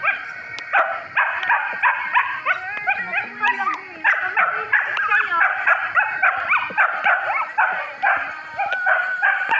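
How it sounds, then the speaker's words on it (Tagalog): Several dogs bark and yip in a rapid, overlapping chorus with some howling and whimpering mixed in, loud and close, continuing without pause outdoors on a rainy day. "So yung mga aso."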